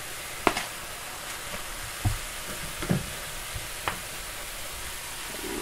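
Squash sizzles steadily in a hot pan for an egg hash, a soft constant frying hiss broken by a few sharp clicks and taps of a utensil stirring.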